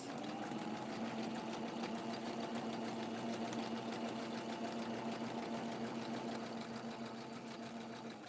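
A sewing machine zigzag stitching along raw fabric edges for doll dresses, running as a steady, even mechanical whir with a fast regular needle rhythm throughout, fairly quiet and uninterrupted.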